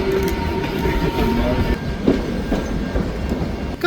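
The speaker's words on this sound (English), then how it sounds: "Slowing down a bit here, but you can see the entire train." A steam train on a long heritage run slows down, its carriages rumbling and wheels clattering steadily and close, with faint brief squeals from the wheels.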